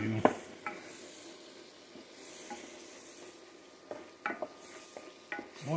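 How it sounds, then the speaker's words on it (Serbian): Flour-coated beef frying in butter and olive oil in a pot for goulash, with a soft steady sizzle and scattered clinks and scrapes of stirring, close and fairly quiet. "Uvaljamo i da pržimo."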